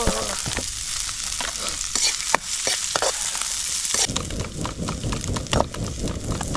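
Ingredients sautéing in a pan: a steady, close frying sizzle with stirring and scraping clatter that grows louder and denser partway through, with no talk.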